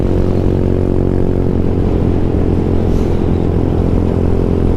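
A 2011 Honda Ruckus scooter being ridden, its small engine giving a loud, steady, close drone mixed with wind buffeting throughout.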